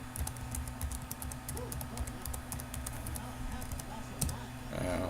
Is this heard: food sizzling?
no